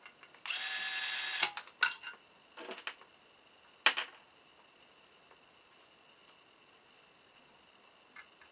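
A power screwdriver drives screws while mounting a Scyan X7 fingerprint keypad lock: one sustained whir, then a few short buzzing bursts and clicks, close and fairly quiet, fading into near silence.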